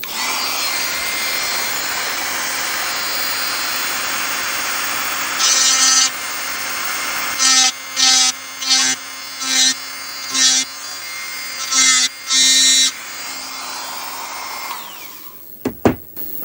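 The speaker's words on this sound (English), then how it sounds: "I got a little ball cutter here we're going to try first." A small ball cutter grinds an old extractor out of a Remington rifle bolt, a steady high whine interrupted by about eight short bursts of harder bite as the cutter is pressed in, then winding down.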